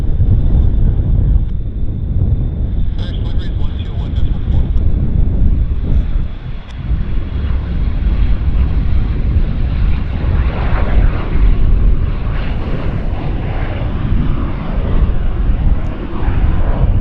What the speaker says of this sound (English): And Chris Jeffs says the seaplane, the Caravan float plane, belongs to Sea Air.